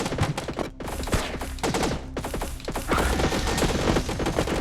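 Minigun in the sci-fi shooter Alien Slayers firing in dense, rapid bursts, a loud continuous rattle of shots with brief gaps, close and intense.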